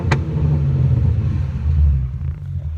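A 2013 Ford Mustang S197 V6 with a custom exhaust revs up and settles, a loud low rumble with rising engine tone heard close with the door open, a sharp click at the start.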